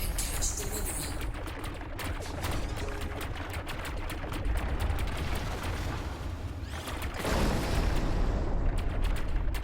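Continuous shooting in Green Phoenix on Nintendo Switch, a dense rattle of rapid blasts that runs throughout and swells louder toward the end.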